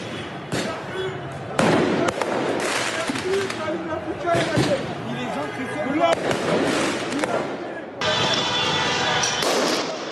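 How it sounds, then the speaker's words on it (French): Firework mortars fired at police during a street clash in Paris burst in repeated loud bangs and crackles, with shouting and a crowd's voices mixed in amid the chaotic noise. "Ici, des policiers sont ciblés par des tirs de mortier."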